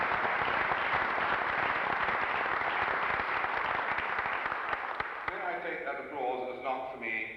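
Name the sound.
audience applause at conference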